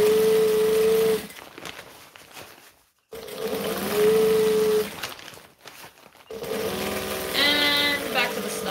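A sewing machine stitches a custom order in separate runs: a steady motor whine and hum lasting a second or two, brief quiet gaps, then further bursts of stitching close by.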